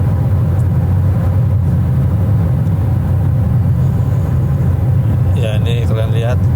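Traffic on an American toll highway produces a loud, constant low rumble of passing cars and road noise, while someone talks over it.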